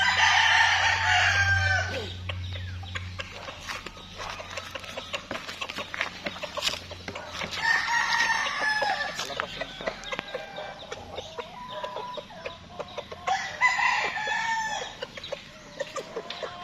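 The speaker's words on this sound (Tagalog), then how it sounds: "May manok pa doon sa labas ah." Chickens outside a rural house in Laiya, San Juan, Batangas: a rooster crows three times at fairly even intervals, with scattered clucking and light pattering between the calls, moderately near and unaccompanied by talk.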